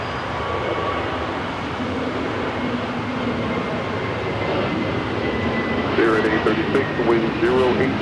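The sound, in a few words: Viva Aerobus Airbus A321neo taking off at LAX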